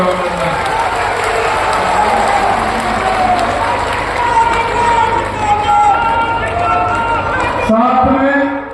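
A crowd at a birthday gathering for a politician applauds and cheers in a loud, continuous roar, with a voice booming over a loudspeaker above the clapping.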